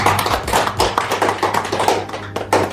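Participants at an industrial-relations training session clap their hands together in quick, uneven rhythmic bursts, close and fairly loud.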